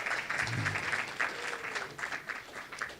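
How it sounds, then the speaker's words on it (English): Audience applause for student award winners at a college ceremony, steady clapping at moderate distance filling the hall. "Please give them a round of applause."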